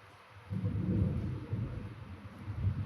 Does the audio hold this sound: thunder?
yes